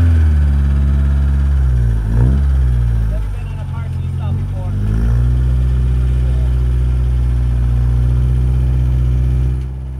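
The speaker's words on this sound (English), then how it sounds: "drive the car up." Car engine idling, then revving briefly with a couple of rising and falling swells as the car drives up onto a tilting lightweight trailer for lowered cars, before settling back to a steady idle hum, while people talk nearby.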